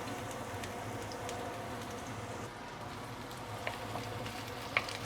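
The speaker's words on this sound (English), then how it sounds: "we put in the garlic and also shallot" Garlic and shallot sautéing in hot oil in a wok, giving a steady, soft, even hiss of frying that carries on unbroken from start to finish with a few small pops near the end.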